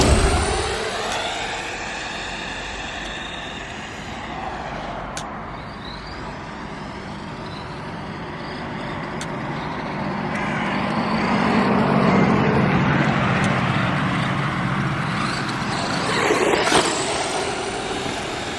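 A brushed Ramraider RC car whines and buzzes as it drives around, its motor pitch rising and falling with speed changes and swelling louder midway, steady and fairly close with no voices.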